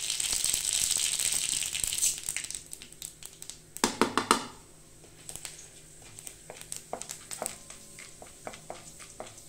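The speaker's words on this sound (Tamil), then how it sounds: "பாருங்க, எண்ணெய் காஞ்சிச்சு, கடுகு சேர்த்துக்கலாம். அடுத்தது உளுந்தம்பருப்பு, கடலைப்பருப்பு." Mustard seeds crackle and pop in hot oil as urad and chana dal are added for a South Indian tempering, a dense sizzling hiss giving way to scattered sharp spattering pops, close and alone.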